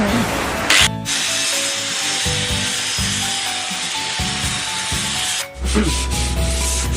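A power sander rough-sands a homemade wooden surf skate board, a steady close grinding rasp that stops briefly twice and then resumes.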